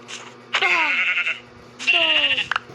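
Two loud, drawn-out sheep bleats with a slightly synthetic, game-like tone, separated by a short pause, over a faint steady hum.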